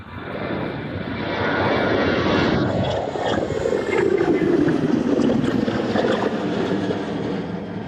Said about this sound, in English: a service to Wrocław on its takeoff roll now, that one making its way towards us